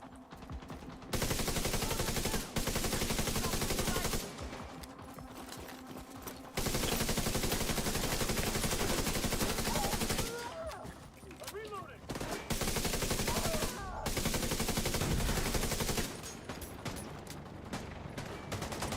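Video game gunfire during a shooter livestream, bursts of rapid shots in several loud stretches separated by brief pauses, with streamer commentary mixed in.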